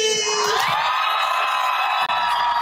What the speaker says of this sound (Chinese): 全场尖叫声不断。